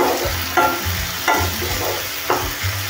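Chopped tomatoes, capsicum and coriander stirred in a hot pan for paneer cheese ghotala, a loud continuous sizzle with three distinct scraping sweeps of the spatula.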